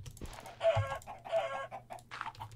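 Chicken clucking in the modded Minecraft pack Hexxit, a string of short nasal clucks repeating every half second or so, moderately loud over a low steady game hum with no talk.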